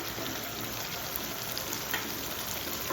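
Tomatoes, onions and small chilies frying together in a pan make a steady, soft sizzle and bubbling hiss throughout, continuous and close, with no talking.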